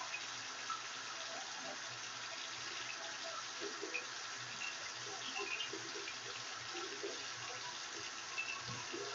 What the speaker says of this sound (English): So now I'm going to wash them off. Rinse.